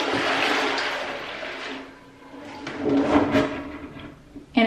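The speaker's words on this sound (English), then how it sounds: "take your bucket of warm water and dump it on in" A bucket of warm water is dumped into a clogged toilet, a loud rushing splash that swirls and drains, then a second gush of water and a sharp knock at the end.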